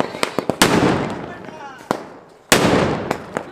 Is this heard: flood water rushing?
no